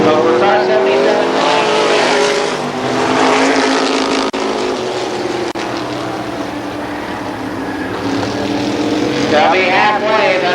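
Modified race cars at Columbus Motor Speedway roar loudly around the oval in a dense, continuous engine wail that swells and fades as cars pass, with a commentator talking over the noise.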